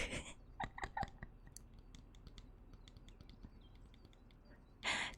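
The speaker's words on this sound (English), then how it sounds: "occasionally you'll hear me typing on my phone." Soft tapping on a phone screen during an outdoor picnic: a scatter of quiet, irregular clicks and taps, faint and close, with a brief louder rustle near the end.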